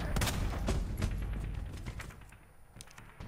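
Gunshots in Resident Evil 2 Ghost Survivors, a quick series of sharp shots with rattling impacts, loud and close, tapering off near the end.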